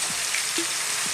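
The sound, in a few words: sliced red onions with garlic ginger paste frying in pan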